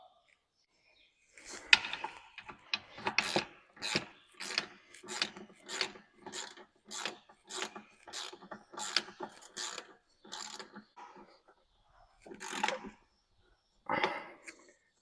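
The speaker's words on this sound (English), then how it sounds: "I torqued these rear E12 bolts to 25 foot-pounds." Ratchet wrench cranking rear E12 oil pan bolts on a BMW E39 with the M52 engine: a steady series of about a dozen short, close clicking bursts with brief pauses between pulls, loud and alone.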